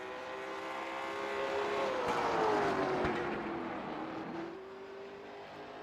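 Late model race car on a qualifying lap at New Smyrna Speedway, a single engine note swelling as it passes close, pitch sliding down, then fading and picking up again.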